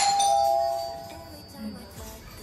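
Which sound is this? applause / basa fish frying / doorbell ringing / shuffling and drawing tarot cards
doorbell ringing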